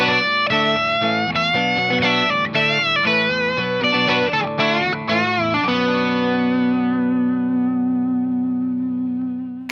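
A distorted electric guitar plays the busy lead line of a solo over chords, thick with effects, then settles into a long ringing sustained chord that slowly fades.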